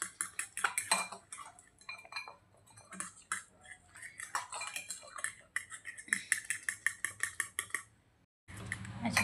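A spoon stirs gram flour into water for pithla, with rapid metallic clinks and scrapes against the bowl, close and busy, continuing in quick bursts over a faint background hum.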